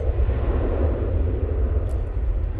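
An orange easyJet airliner departs on the far runway at Manchester Airport, its engines a steady, distant low roar and rumble that stays even in level with no voices over it.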